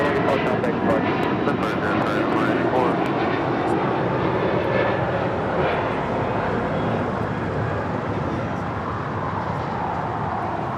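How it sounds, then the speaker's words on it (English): A Delta Air Lines Airbus A330neo arriving at LAX from Tokyo Haneda, its jet engines giving a continuous loud roar that eases slightly toward the end, with faint talk in the background. "On the north side, Delta Airlines Flight 8 coming in from Tokyo Haneda. It's an A330neo."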